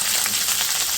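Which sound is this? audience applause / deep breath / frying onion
frying onion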